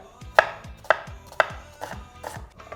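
A knife chops onion on a cutting board, several crisp, evenly spaced thuds at first, then a few softer, less regular cuts, close and alone.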